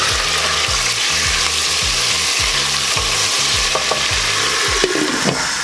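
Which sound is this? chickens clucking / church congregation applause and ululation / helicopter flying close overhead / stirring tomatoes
stirring tomatoes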